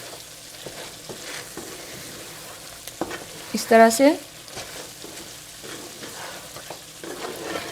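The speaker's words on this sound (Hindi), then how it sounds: "अब यहाँ पे हम इसमें लौंग और मेथी दाना ऐड कर देंगे। थोड़ा सा हिलाएंगे" Cloves and fenugreek seeds sizzle in a pan of mutton karahi with softened tomatoes as a spoon stirs and scrapes, a soft steady frying hiss with a brief sharper burst midway, while someone speaks briefly.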